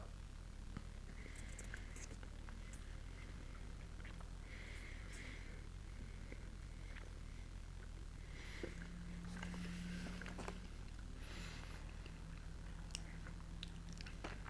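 Someone chews a Chips Ahoy chewy gluten-free chocolate chip cookie near the mic, with soft, steady mastication and small mouth sounds throughout and no speech.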